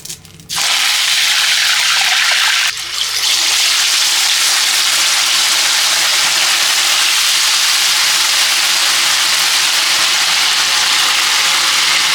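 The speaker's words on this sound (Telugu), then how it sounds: "మనం చేప ముక్కలు ఫ్రై చేసే ముందు ఇట్లా కరివేపాకు నూనెలో వేసుకుందాం." Curry leaves dropped into hot oil in a pan, bursting into a loud, continuous hissing sizzle after a short quiet start and a brief dip, then holding steady close up.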